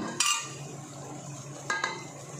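Chicken korma spices being stirred in a metal pot, with two brief scraping clinks of a spoon against the pot separated by a quiet stretch of faint background hum.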